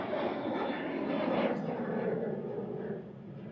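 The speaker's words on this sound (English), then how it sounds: "737-800 with flight 8490 heading off to Londonderry" Boeing 737-800 jet departing Manchester Airport for Londonderry, its engine roar swelling to a broad rushing peak and then easing off, fairly loud and close.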